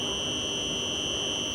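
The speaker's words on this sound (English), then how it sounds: "that is the sound of the electric current moving from the junction boxes to the" Solar panel equipment carrying current from junction boxes to an inverter gives a steady electrical whir. Two piercing high tones hold constant over a dense noisy hum, loud and unbroken.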